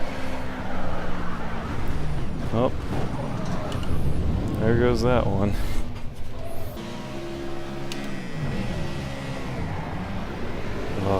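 Ford Cobra Trans Am race car in Project CARS at Cadwell circuit, engine droning steadily with rising and falling revs and gear shifts throughout, while someone talks over it.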